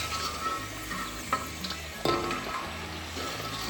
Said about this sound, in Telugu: నూనెలో వేసుకొని వీటిని తిప్పుకోవాలి,